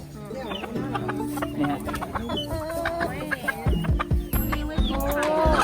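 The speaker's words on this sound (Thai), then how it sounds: "ที่จริงแล้วเขาเป็นไก่ไข่สายพันธุ์ไทย" Thai egg-laying hens cluck and chatter in a busy coop at a farm cafe, with overlapping close calls, occasional rooster sounds and steady background activity.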